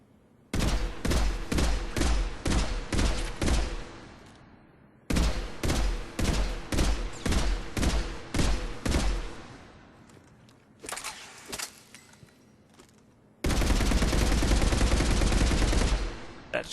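The Revenant machine gun from Mass Effect 3 fires in loud, rapid bursts of sharp cracks, separated by brief pauses, and finishes with one longer, sustained stream of fire.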